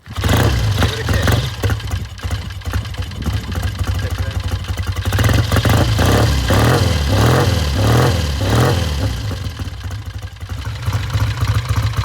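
A 1967 Triumph T90 350cc single-carb twin motorcycle runs close by after a kickstart, with a steady low idle and a run of revs that rise and fall before it settles back to idle.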